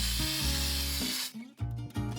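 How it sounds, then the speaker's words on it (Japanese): Gloss adjustment spray is misted over a patched hole repair on a washroom wall, giving a steady airy hiss for about a second before fading beneath background music. "ツヤ調整スプレーを吹きます"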